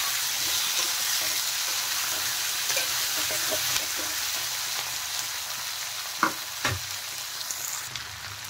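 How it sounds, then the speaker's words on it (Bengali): Onions and boiled potatoes fry steadily in a pan with a continuous broadband sizzle, broken by a few stirring scrapes and two sharp clinks near the end. "পেঁয়াজ আর আলু ভালো করে ভেজে নেব প্রথমে।"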